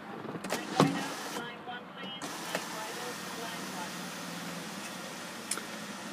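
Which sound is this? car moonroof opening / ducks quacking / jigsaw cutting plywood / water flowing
car moonroof opening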